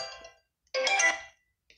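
An incoming phone call ringtone, a short bright melodic burst followed by a pause and a second louder burst, close and clear with no talking.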